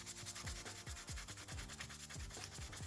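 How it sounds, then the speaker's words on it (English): Detailing sandpaper sanding a Warcrow Northern Tribes miniature model part, a close, steady run of quick rubbing strokes in a fast, even rhythm. "Then you go into your detailing sandpaper"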